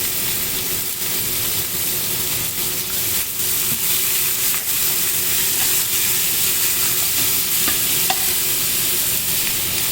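Pork sizzles and fries steadily over high heat in a wok for Thai basil pork, a dense continuous crackle with light scraping of stirring and occasional clinks, close and loud with no talk.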